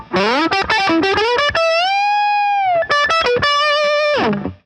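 Distorted electric guitar with effects playing a rock solo with quick picked notes and sustained one-and-a-half to two-step bends that rise and hold, loud and up close.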